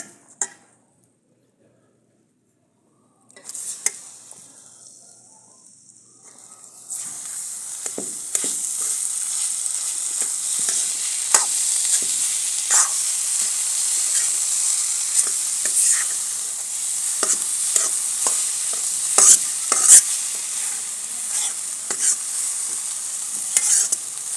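Gram flour and khoya roasting in a pan for khoya peda, stirred with a soft continuous sizzle and scraping that starts after a near-silent opening with a few clicks, then holds steady and close.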